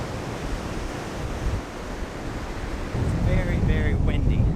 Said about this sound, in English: there's some waves that are crashing up pretty high on the rocks over there